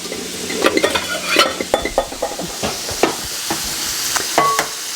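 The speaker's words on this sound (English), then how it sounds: "I'm going to beat some eggs." A whisk or fork beating pasture-fed organic eggs in a bowl, with quick, irregular clicking strokes against the side, close by. A pan sizzles softly underneath.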